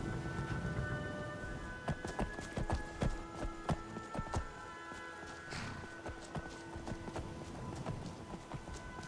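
Horse hooves clip-clop in Skyrim Anniversary Edition, uneven hoof strikes at a walk-to-trot pace with quiet game ambience and music underneath.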